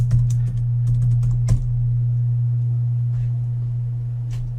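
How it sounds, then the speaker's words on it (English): Keys clatter on a computer keyboard in a short burst of quick taps, then fall quiet over a steady electronic hum, with one last tap near the end. "we're going to type her name in here."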